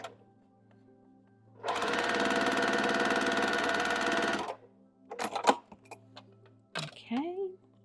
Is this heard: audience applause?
no